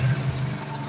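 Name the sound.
Honda CD70 motorcycle engine starting on first kick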